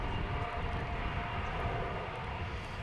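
Steady, broad jet engine roar from a Finnair Airbus A350-900 on the runway at Dallas/Fort Worth Airport, a continuous even rumble heard from a distance with no breaks.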